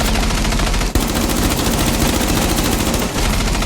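Rapid automatic gunfire from a first-person shooter video game fills the clip, loud and continuous, with a burst of dense, evenly spaced shots and no voices heard.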